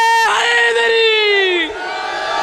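A crowd at a majlis gathering raises a loud unison shout of the slogan Haidari, one sustained chanted cry swelling and then fading after about a second and a half.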